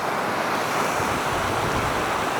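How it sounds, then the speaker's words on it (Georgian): A rain-swollen mountain stream in Racha, Georgia, rushes past close by as a continuous loud roar of churning water with no pauses or voices. "აი ესეც ჩვენი ნაკადული."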